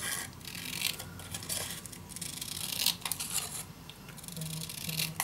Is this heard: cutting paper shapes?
yes